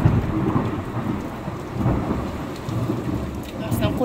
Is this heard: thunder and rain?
yes